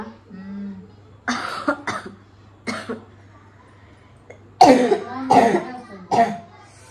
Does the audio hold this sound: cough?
yes